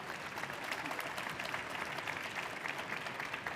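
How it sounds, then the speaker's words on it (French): Sustained audience applause at a bakery competition award ceremony, the Coupe de France de la Boulangerie, steady and evenly spread, heard from a distance at modest volume with no talking over it. "vous pouvez donc vous applaudir vous aussi"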